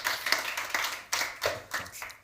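Audience applause at a bond launch event, sparse and fairly close, with clusters of claps swelling and fading in several uneven bursts rather than a steady roar.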